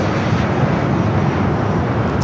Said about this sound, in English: We do have a corporate jet taking off first here